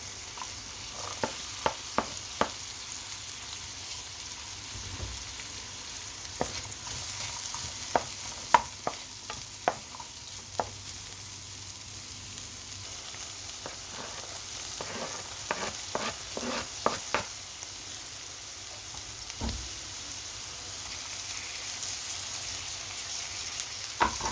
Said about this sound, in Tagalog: Gisa na natin ang ating onion guys. Lagyan na natin ang ating carrots.